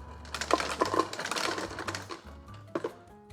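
Ice cubes tumble into a drink bottle in a quick burst of hard clattering knocks, followed by a few more scattered clinks close by.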